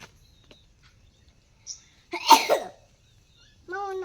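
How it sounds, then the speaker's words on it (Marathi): A single person coughs once, a short harsh burst close by, after a quiet stretch; a brief voiced sound follows moments later. "खोकला जांभळ्यामुळे यायला लागला बघ."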